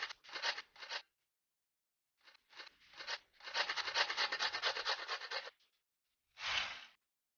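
Rhythmic scraping strokes of an ingredient being grated for a pizza in the Masha and the Bear Pizza Maker cooking game, several quick bursts and one long run of rubbing, then a final short scrape.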